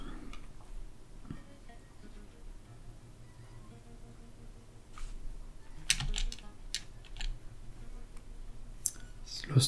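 Arrow keys clicked on a computer keyboard to move the camera in the game Desperados 3, a scattered run of light taps and clicks under faint game sounds, with a few sharper clicks near the end.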